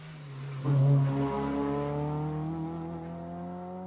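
A rally car on a closed stage of the 2018 Jersey Rally passes close by, its engine surging loud as it arrives and then holding a steady, slowly fading drone as it pulls away.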